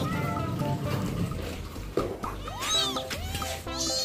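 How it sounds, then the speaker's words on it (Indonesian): Small kittens meow insistently for milk, with their mother cat nearby. Thin, rising and falling meows come in quick succession in the second half over a murmur of background noise. "Meong-meong terus anaknya minta susu."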